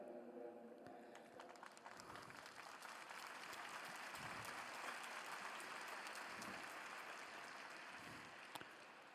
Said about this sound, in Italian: grazie per applaudire